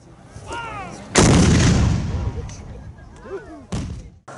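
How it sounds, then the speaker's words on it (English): Fort cannon firing on Union gunboats in a Civil War siege scene: one heavy boom with a rumbling tail, then a second sharp blast, with a voice talking under the din. "The guns of the fort turned to face the Union gunboats and opened fire."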